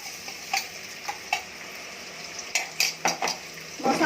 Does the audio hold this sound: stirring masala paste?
yes